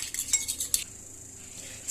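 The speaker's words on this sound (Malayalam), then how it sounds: "മിക്സ് ചെയ്യാം" A utensil stirs and clinks against a bowl of beaten egg with half a teaspoon of ground pepper in it, for a bread-and-egg pizza. A quick run of light metallic taps comes first, then it goes quiet.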